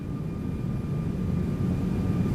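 Airbus A340 engines at reduced thrust during an overweight landing approach, a steady low droning rumble with a faint constant tone, heard evenly throughout without talk.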